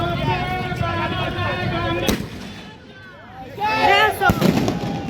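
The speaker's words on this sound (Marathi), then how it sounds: "थोड्याच वेळात आपण फटाक्यांची आतिषबाजी सुरू केली." Firecrackers burst during a Bhim Jayanti celebration in a residential colony, sharp loud bangs and crackles amid a crowd, with voices and whistling tones around them.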